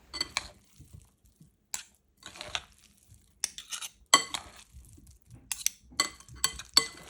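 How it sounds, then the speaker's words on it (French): Potatoes and tuna folded gently together in a bowl, a scattered series of soft scrapes and light clinks of utensils against the dish, close up and with no talking. "Et il ne te reste plus qu'à mélanger délicatement pour ne pas écraser les pommes de terre."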